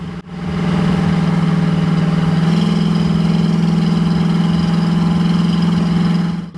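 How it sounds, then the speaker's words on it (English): A 1968 Chevrolet Camaro's big V8 engine with headers idles loudly with a deep, lumpy exhaust burble that steps up slightly midway and holds steady. "It's got a real good exhaust note to it."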